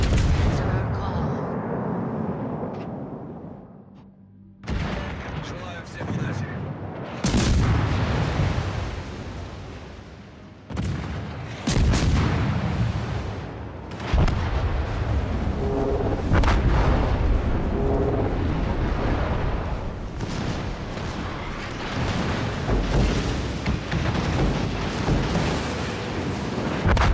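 Heavy artillery barrage in the naval game World of Warships: Legends, with repeated loud booming blasts and rolling explosions over a constant rumbling wash, broken by a brief lull before the shelling resumes.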